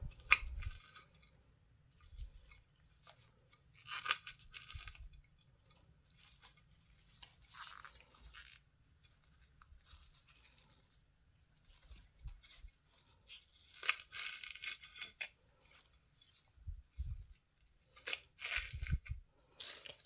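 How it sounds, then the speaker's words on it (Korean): Scissors snipping through fresh green onions (jjokpa) with soil-grown roots left intact, giving short crisp crunchy cuts in irregular clusters with quiet pauses between, close and fairly faint. "쪽파를 뿌리 부분만 남기고 한번 잘라 보겠습니다"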